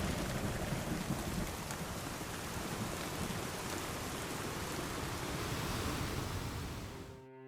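Heavy rain with rolling thunder, a dense, constant roar of downpour that stays loud and steady throughout before cutting off abruptly at the end, with no voices.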